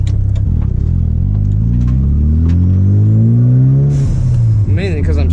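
A Mazda RX-7 FD pulls out of a corner with a loud, close engine note that climbs steadily in pitch through the revs, shifts, then drops back and starts climbing again.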